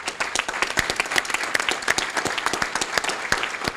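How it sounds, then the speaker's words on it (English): Audience at a college hall rededication ceremony breaks into a round of applause: dense, steady clapping from many hands, close and fairly loud, sustained throughout without speech over it. "he deserves your appreciation and another round of applause"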